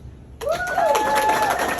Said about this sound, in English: Clap your hand if you were born before 2000.